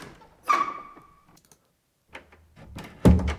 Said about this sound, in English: This collection consists of 106 different door sounds.